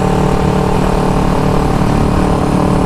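A 1974 Honda CB360 motorcycle engine runs steadily in sixth gear, a continuous loud, rough drone with a dense low rumble that holds an even level throughout, with no pauses and no voices.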